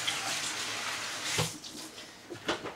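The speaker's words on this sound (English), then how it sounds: "I'm going to rinse my hand real quick." A hand being rinsed under a running kitchen tap while preparing stuffed flounder, a steady close rush of water with a few splashy surges as the hand moves through the stream.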